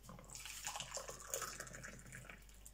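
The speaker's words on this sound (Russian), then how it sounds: "Вот стакан воды налью," Boiling water from a kettle pours into a glass in a home kitchen, a faint, steady splashing trickle with no talking.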